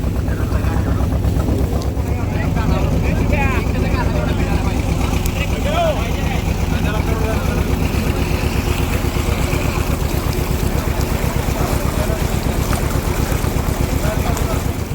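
A motor boat running near a forest fort area, its engine giving a steady close rumbling drone throughout with wind and water wash, while people talk over it.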